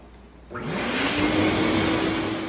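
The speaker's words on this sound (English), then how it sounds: "we are testing our second rat vac here, making sure the sensor works with some tissue" A rat vac rodent trap vacuum switches on abruptly and runs with a loud, steady, rushing whine that holds close by for a couple of seconds.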